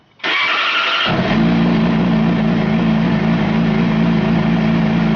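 A Yamaha R sport motorcycle, with its exhaust servo motor disconnected and in neutral, cranks briefly with a whine and fires up, then settles into a steady, even idle that continues loud and close to the end.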